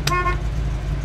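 The horn of a 1967 Chevrolet Camaro gives one very short, close toot, a brief bright tone that cuts off quickly above a steady low engine idle.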